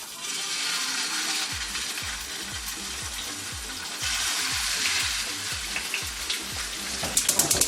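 Marlin sears in a hot pan with a steady, loud sizzle and spitting crackle throughout, swelling briefly partway, with a few sharper pops near the end.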